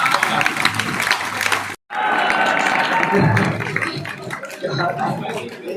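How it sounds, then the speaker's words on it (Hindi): Loud applause and cheering from the crowd at a large Hindi poetry recital in a small town, with a dense roar of clapping briefly cut off, then resuming strongly and tapering slightly toward the end. "जोरदार तालियों के साथ"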